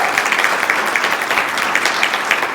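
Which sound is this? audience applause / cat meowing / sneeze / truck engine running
audience applause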